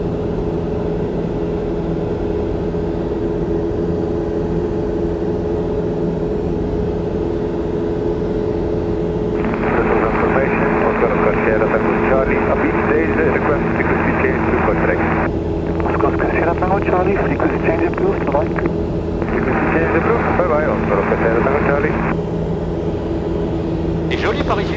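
Light aircraft cruising at 2300 feet altitude over towns near Namur, Belgium, with a loud, steady engine drone throughout; cockpit voices talk over the engine in the second half.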